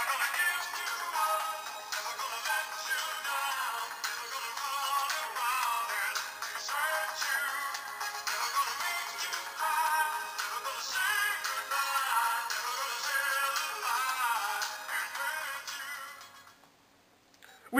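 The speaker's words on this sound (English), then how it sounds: "Here was my old ringtone for when people used to call me." An old mobile phone ringtone for incoming calls plays steadily as a bright, busy melody with no pause, moderately loud throughout, then cuts out near the end.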